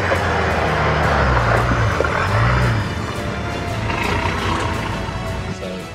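An 80 Series Nissan Patrol 4x4 climbs an off-road incline at Rust De Winter, its engine roaring loud and close as it revs hard under load, with rumbling low throb throughout.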